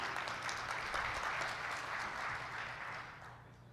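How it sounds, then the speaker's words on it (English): Audience applause at a professional conference session, a dense, even wash of clapping that holds steady and then tapers off toward the end, with no voices on top. "So, round of applause, and thank you, sir."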